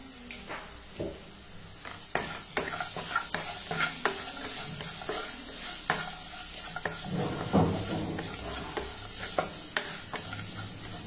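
Salt and asafoetida fry in hot oil in a pan for lemon rice, a steady sizzle broken by repeated scrapes and taps of a stirring spoon against the metal, close and continuous.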